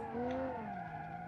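Tyres squeal in a drawn-out skid as a car from the ETK W Series mod drifts with understeer at about 20 mph in BeamNG.drive, a loud, sustained screech that dips slightly in pitch over one continuous second.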